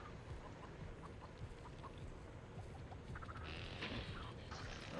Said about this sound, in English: Watch out for this chicken right here.